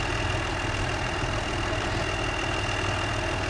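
A tractor engine idles in a farming video game, a steady low rumbling hum that stays even and unchanging, with no voices.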